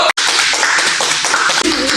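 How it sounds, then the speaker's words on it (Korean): Clapping for taekwondo students in a training hall, a short, loud burst of dense hand claps from a small group, starting abruptly and continuing steadily. "우리 박수 한번 주자. 박수!"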